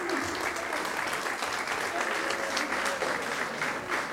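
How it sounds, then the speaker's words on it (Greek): Sustained audience clapping at a music school's end-of-year celebration on Syros, a dense, even wash of many hands applauding throughout, fairly loud and close with no one speaking over it. "Ένα χειροκρότημα για τον Γιάννη το Λάπα"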